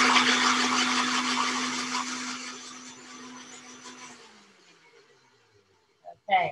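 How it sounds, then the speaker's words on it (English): A studio blender grinds natural materials with water to make ink, a loud steady whirring roar that fades out over several seconds, followed by a couple of short clunks. "Blenders are great. This is my studio blender."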